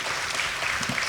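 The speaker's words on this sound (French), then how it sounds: "Merci, on vous applaudit." Brief, steady audience applause at a health conference panel in France, a dense wash of clapping that continues throughout the short moment.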